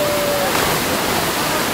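Steady rushing roar of a waterfall at Aling Aling in northern Bali, loud, close and continuous with no pauses.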